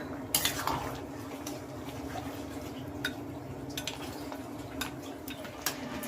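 A spoon stirs sukto with sun-dried lentil dumplings in a metal pot, giving scattered clinks and scrapes over a low steady background hum; faint birds call in the distance and nobody speaks.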